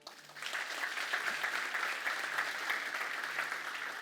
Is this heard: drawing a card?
no